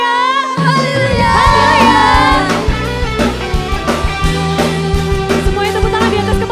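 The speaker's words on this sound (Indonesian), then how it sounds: "Bisa ngasih sorak-sorai lebih lagi buat Tuhan" Children's voices shout and cheer during a kids' church service over loud backing music, a lively burst of excited crowd noise that settles as the music carries on.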